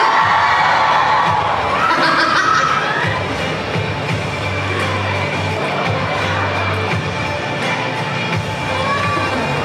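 An audience at a carnival opening ceremony in Macau applauding and cheering, a loud, dense crowd wash with shouts and laughter that holds steady throughout.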